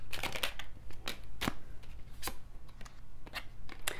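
Tarot or oracle cards riffle and snap in short, crisp bursts, several quick shuffles close up and fairly quiet, with no talking.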